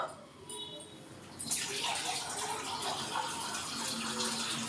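Water gushes into a pot, starting faintly and then swelling into a loud, steady pour that continues to the end.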